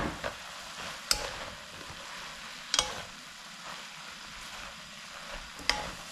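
Seasoned namul with onion, scallion, garlic and perilla oil stir-fries in a pan, a low steady sizzle under three sharp, widely spaced scrapes of a utensil against the pan.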